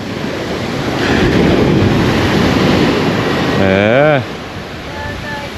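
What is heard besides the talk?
ocean waves at Praia do Éden beach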